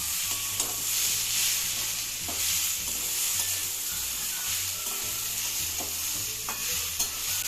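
Tomato with slit green chillies frying and being stirred in a pan for a mung dal and ridge gourd dish: a steady close sizzle, with a spatula scraping at irregular intervals throughout.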